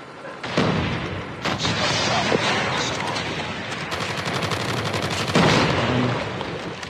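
Rapid automatic gunfire from a machine gun in the Call of Duty Mobile hardpoint mode, loud and near, with dense bursts running nearly the whole time and a sharper burst near the end.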